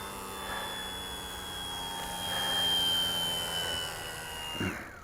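An E-flite ARF Nieuport 17 electric RC model biplane with battery problems flies overhead, its motor a steady whine that swells and fades slightly before cutting off abruptly.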